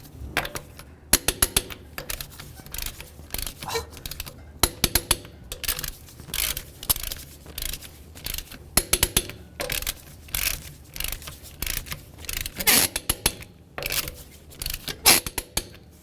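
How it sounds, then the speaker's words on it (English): Sharp clicks ring out repeatedly from a torque wrench as lug nuts on a 2009-2020 Dodge Journey are tightened in a crisscross pattern to 100 foot-pounds, with metallic clinks and handling noise between the bursts. "we'll go ahead and torque these lug nuts in a crisscross manner to 100 foot-pounds"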